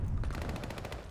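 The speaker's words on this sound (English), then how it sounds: "Gunzy gets gunned down from behind." Rapid automatic gunfire from a shooter video game, a quick rhythmic burst of about a dozen evenly spaced shots, fairly faint and without talk over it.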